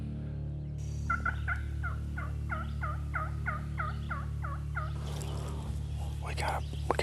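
Wild turkeys gobble back to a hunter's calls, preceded by a quick series of about ten sharp yelps from a turkey call, then a distant rattling gobble, all over steady outdoor background hum.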